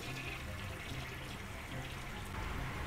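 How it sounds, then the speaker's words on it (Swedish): A toilet flushes in a steady, continuous rush of water that runs for the whole stretch and swells slightly toward the end, with no voices over it. "nu börjar det spola"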